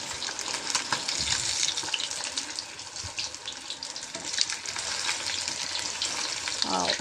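Fish frying in a home kitchen pan, a steady broad sizzle with occasional stirring and clatter, plus a brief burst of running tap water toward the end; no speech.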